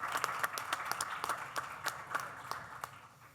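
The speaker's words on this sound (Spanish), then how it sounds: "Quiero que cerremos este panel aplaudiéndoles a nuestros panelistas." An audience at a conference panel session on digital transformation gives warm applause for the panelists, a moderately distant patter of claps that fades slightly toward the end, with no speech over it.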